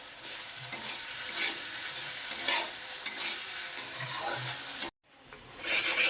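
Onion, green chilli, ginger paste and garlic frying in a pan, with a continuous close sizzle and a spatula scraping and stirring, which cuts off briefly near the end and then comes back.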